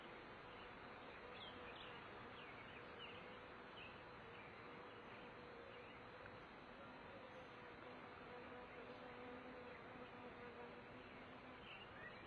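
Honeybees buzz steadily in a two-frame mini mating nuc with virgin queens emerging, a dense continuous hum filling the whole stretch without talk.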